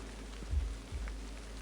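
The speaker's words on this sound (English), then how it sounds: "the sound of the rain tapping against the window was telling me to hurry on home" Rain tapping against a window in the Hashihime of the Old Book Town video game, a soft steady patter with a low rumbling background and a couple of slightly louder dull taps partway through.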